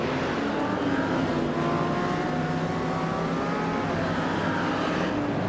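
Shelby Cobra race cars roar around a tight-cornered track in a racing video game, a steady dense engine drone with rising and falling whine tones throughout, loud and continuous with no talking.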